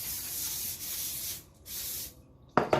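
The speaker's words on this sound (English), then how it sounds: "let's spray this loaf pan already" Canola cooking spray hissing into a bread loaf pan in two close bursts, each a bright airy spray lasting under a second, followed by a short clatter as the pan is handled.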